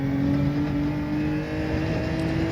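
A race car engine in a racing video game holds a steady, loud drone with strong tonal harmonics, sustained close and continuous throughout without talk.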